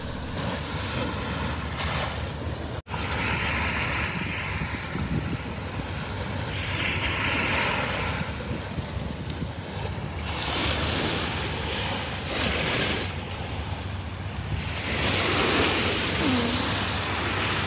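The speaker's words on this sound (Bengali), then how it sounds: "এই জায়গার যে ঢেউটা তোমরা দেখতে পাচ্ছ" Ocean surf at East Coast Beach in Singapore rolls in as a steady, broad roar of breaking waves, with swells rising and falling in loudness, wind noise mixed in and a faint drone of distant aircraft overhead.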